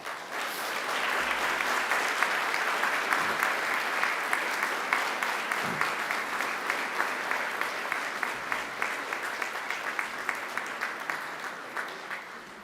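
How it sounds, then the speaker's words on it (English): A large crowd at a university graduation ceremony applauds steadily and loudly for several seconds, a dense sustained clapping that continues without a break. "give them a mighty round of applause in thanks and appreciation"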